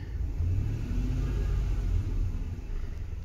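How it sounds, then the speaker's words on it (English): A Ford Econoline E-150 van engine runs at a smooth, steady rumble, close up, with only a slight rise in revs and no talking. "if I give the engine a little bit of rev"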